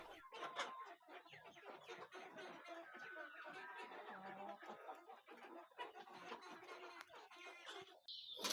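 Chickens cluck and murmur inside their coop, a busy run of close, uneven calls layered over one another, with a speaking voice mixed in among the birds.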